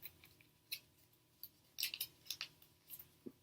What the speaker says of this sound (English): you open the alcohol swab, you just rip the corner